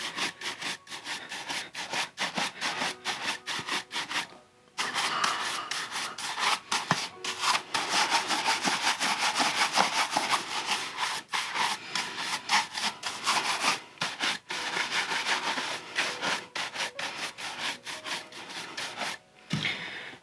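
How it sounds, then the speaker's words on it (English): Shell cordovan leather shoe being brushed to remove wax, fast rhythmic bristle strokes close by, steady back-and-forth swishes with a couple of short pauses, no talk. "The wax has sat on here for another minute, so I'm going to brush this off."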